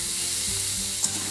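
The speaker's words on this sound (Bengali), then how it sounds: "ব্যাস এটা একটু ভাজা ভাজা করে নেবো" Vegetables for a roti sabzi frying with a little turmeric in a pan, a close, continuous sizzle with a faint stir or clink near the end, no talking.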